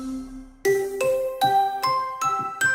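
Clear synthesized sine-wave bell tones strike one after another, about six in a row, each ringing on with a pure sustained pitch.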